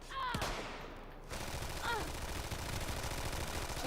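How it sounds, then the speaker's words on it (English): Sustained automatic gunfire in a modded Skyrim game, a dense rattling barrage after a sharp opening blast, loud and continuous with no pause. "I can hear the machine gun fire"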